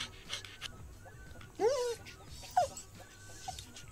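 A dog in the video game Yaga pants while being petted, with two brief whimpering, yip-like bursts rising over a low continuous background.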